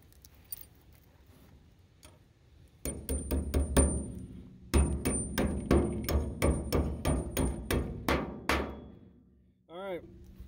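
Repeated sharp metallic hammer strikes ring out in quick succession as bolts are pounded into oak trailer sides, a dozen or so blows in bursts, followed by a brief whirring sound at the end.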